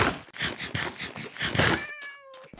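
A cat meows in the Minecraft video game, several drawn-out cries in a row ending in a rising and falling wail, loud and close with no talking.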